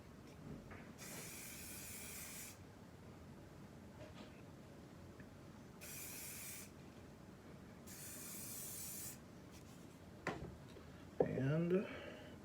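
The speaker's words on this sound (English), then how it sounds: "I'm just going to use my favorite hairspray" Hairspray from a can sprayed onto a beard during an Olaplex treatment, several separate bursts of airy hiss of about one to two seconds each, close by, over low background noise.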